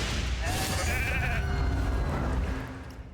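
In the video game RAID: Shadow Legends, a sheep bleats a couple of times, a wavering cry over dense, loud battle effects and rumbling noise.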